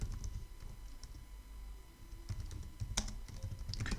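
Computer keyboard typing of Python code: quick, close key clicks in short irregular bursts with brief pauses, alone in a quiet room.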